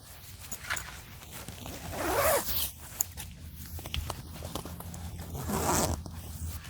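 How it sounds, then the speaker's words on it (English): The zip on a privacy tent used for showering and toileting beside a van is pulled in two distinct sweeps a few seconds apart, close and clear against a quiet background. "This tent has two zips on either side."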